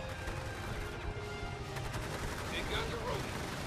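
Gunfire in the strategy game Victory Command: dense bursts of weapon fire and explosions crackling continuously, loud and close, with heavy rumbling beneath.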